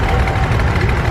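A JCB 3C Mark III backhoe loader at a vintage rally idles with a loud, close, steady low diesel rumble that does not vary across the moment.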